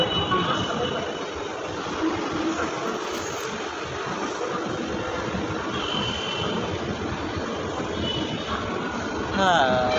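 A metro train rumbles steadily with broadband rail noise, a brief high wheel squeal near the end, at MGBS metro station in Hyderabad.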